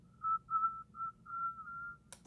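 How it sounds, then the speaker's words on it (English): A single person whistles a steady, clear tone in a few sustained phrases with brief gaps, close and alone, with a low background hum and a short noisy click at the end. "Whistling sound."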